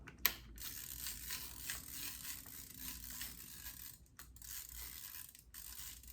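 A Hasselblad 500CM camera's film advance is wound by hand, giving a quiet run of close ratcheting clicks and mechanical grinding with a few sharper snaps.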